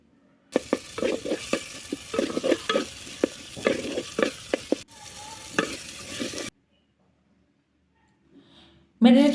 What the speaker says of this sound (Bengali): টমেটোটা খুব ভালোভাবে ভেজে নিতে হবে।